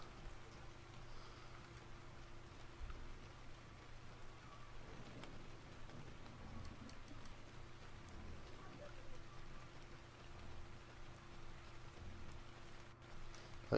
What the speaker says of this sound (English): But it's raining again, isn't it?